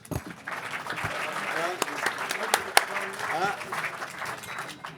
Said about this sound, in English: Big applause to you, Michel.